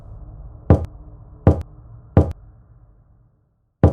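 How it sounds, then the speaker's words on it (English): Three firm knocks on a bedroom door at a slow, uneven pace, then a silent pause and a fourth knock, close and loud with nothing else around them. "After knocking on their room for more than 30 minutes without getting any response"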